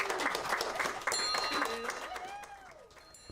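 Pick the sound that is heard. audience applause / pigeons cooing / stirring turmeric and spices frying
audience applause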